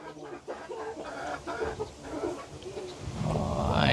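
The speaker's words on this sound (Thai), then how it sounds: "มีเสียงไก่เสียงกาพี่น้องเลยเนาะ" Chickens clucking in short bursts at a moderate distance, with a rising noise swelling toward the end.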